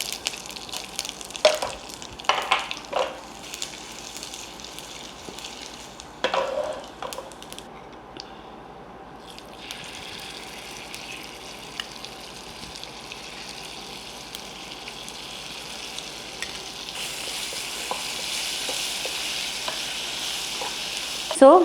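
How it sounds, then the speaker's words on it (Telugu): Cooked rice being stirred and fried in a pan with dried red chillies, asafoetida and mango pickle, with scraping stir strokes at the start over a continuous sizzle that grows brighter toward the end and no talking. "అన్నం మనం వండి పెట్టుకున్న అన్నం మంచిగా పోపు వేసాను"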